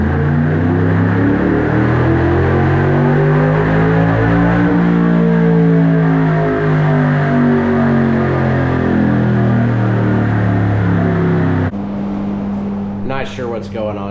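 A swap meet budget-build engine revs hard on a dyno, a loud sustained roar with steadily shifting pitch that runs long before cutting back to a rough idle with a few blips.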